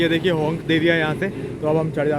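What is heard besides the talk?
No distinct noise like a dog, phone or traffic.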